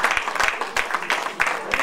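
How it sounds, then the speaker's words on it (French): An audience at the Miss Africa Tress Fashion 2018 pageant in Auxerre, France, gives a short burst of applause, uneven claps rising and falling over under two seconds. "Super, on l'applaudit, on l'applaudit."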